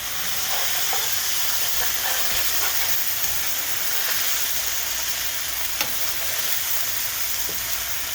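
Okra sizzles and fries steadily in a pan on a stove, a continuous broadband hiss with faint crackles and the odd light clink, fairly close and without talk.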